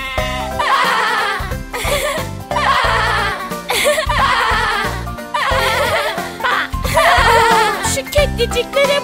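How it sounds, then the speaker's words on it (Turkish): Sheep bleating over a children's nursery-rhyme backing track: several loud, wavering bleats in a row, each a few seconds apart, mixed with music. "Şu koyunlara bak."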